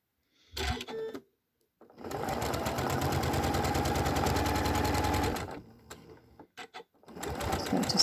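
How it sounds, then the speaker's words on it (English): A sewing machine stitches a paper-pieced fabric seam in a short burst, then a long steady run of several seconds, followed by a few brief stitches and a final start, close and clear with no talk. "Just going to stitch up to the needle"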